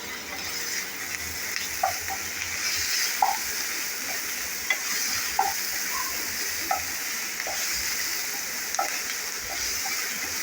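Chopped tomato sautéing in a pan for a potato and curd curry, a continuous close sizzle with regular light scraping clicks of a spatula stirring every second or so, no talk.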